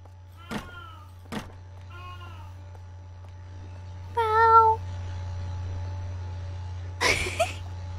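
Clover the cat meows in a video game, several short mewing calls spaced over a low steady hum, with a few clicks and soft noises in between.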